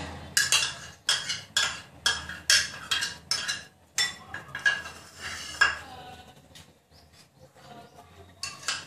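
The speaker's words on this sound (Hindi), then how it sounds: "एक बोल में हम इन सभी वेजिटेबल्स को मिक्स करेंगे।" Chopped onion, capsicum and beans with a little salt tossed together in a bowl, giving a rapid series of loud clattering, scraping spoon strokes close up, which slow and fade toward the end.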